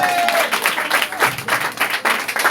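A church congregation applauds and cheers for the Lord, with dense, loud clapping and voices carrying throughout, surging in waves under shouted acclamation.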